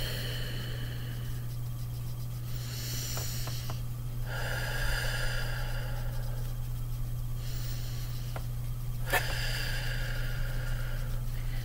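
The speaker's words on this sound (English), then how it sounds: "I'll take three deep breaths" Three slow, deep breaths taken before an I Ching practice, heard as soft airy inhales and exhales over a steady low hum, with pauses between them and no talk.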